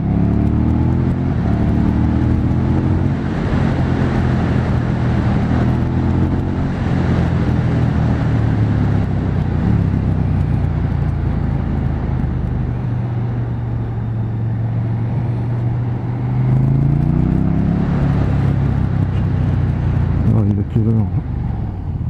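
A 2018 KTM 1290 Super Duke R engine drones steadily under riding, its pitch rising and falling with throttle changes and a swell near the end, with a rider talking over it throughout.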